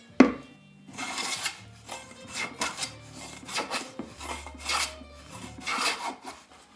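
A hand plane is pushed along a wooden Greenland paddle blank braced against a planing stop, giving a series of rasping strokes that rise and fade at an uneven pace, close up with no speech.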